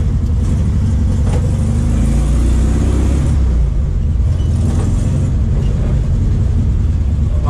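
A Volkswagen Kombi van drives uphill during a brake test, its engine droning loudly and continuously from inside the cab, with road rumble throughout.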